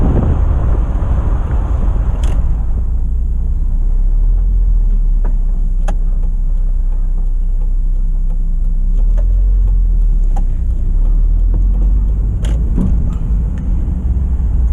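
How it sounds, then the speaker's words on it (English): Steady, loud road noise from inside a moving Mazda MX-5 with its interior stripped out, driving on a highway, a constant low rumble with wind, plus occasional faint clicks and thumps. "on the highway, it's more road noise more than anything"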